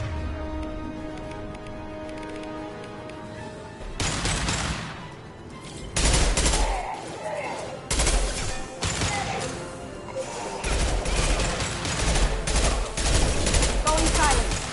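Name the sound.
concussive shots fired in video game Mass Effect 2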